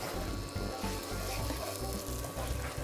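Ginger garlic paste frying with onions in a pan gives a steady, dense sizzle that stays close and even throughout, with no speech over it.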